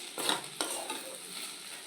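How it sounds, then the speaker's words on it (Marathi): Okra being stir-fried in a pan with crushed peanuts added: a couple of brief scraping stirs near the start over a soft, steady sizzle, close and fairly quiet, with no talking. "परत आपल्याला 1 मिनिट हे परतून घ्यायचं आहे"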